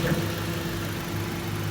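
A 2016 Honda CR-V 2.4-litre automatic idles steadily with the air conditioning running, a constant low hum with even engine harmonics and no revving, close by and alone.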